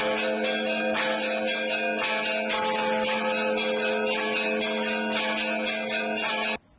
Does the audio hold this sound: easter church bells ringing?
yes